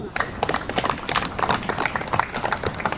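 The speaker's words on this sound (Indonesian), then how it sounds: "Tepuk tangan buat kita semua" Audience clapping at the close of a community aspiration meeting with coastal and island tribes, dense, loud hand claps in an uneven continuous patter throughout.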